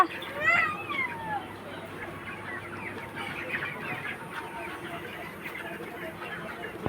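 Chickens cluck in a smelly coop area, with a brief squawk early on followed by soft, scattered clucks over steady background noise.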